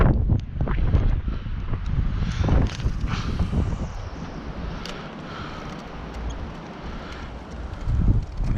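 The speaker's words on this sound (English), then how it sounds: "So it was really windy, and ended up picking up a little bit of footage." Strong wind buffets the microphone beside a retention pond, loud uneven rumbling gusts that surge and fade over several seconds, dipping briefly before another heavy blast near the end.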